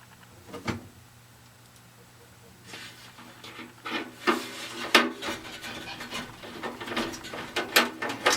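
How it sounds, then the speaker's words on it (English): A screw being driven into an RV furnace blower motor assembly. It starts as faint scraping and grows into a rising series of rasping, ratcheting clicks, close up and fairly quiet. "And the final screw goes in right here."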